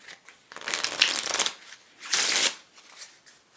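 A Bicycle Jules Verne deck of air-cushion-finish playing cards is shuffled in two quick riffle bursts, crisp fluttering snaps up close, with light handling noise between them.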